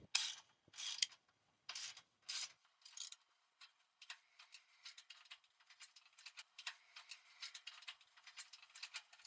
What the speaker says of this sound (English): ratchet wrench here. Take this off.